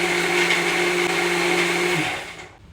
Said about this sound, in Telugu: మంచిగా మెత్తగా మిక్సీ పట్టుకోవాలి